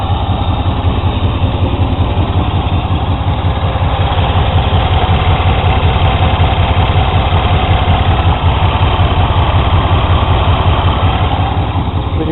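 A car engine idles with its AC compressor running during an R290 propane recharge, a steady, loud, low throbbing hum that holds unchanged throughout.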